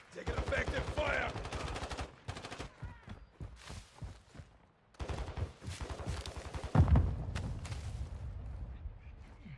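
Bursts of automatic gunfire from Modern Warfare II crackle in rapid volleys, some louder close shots and some quieter, separated by short pauses, with a heavier boom partway through.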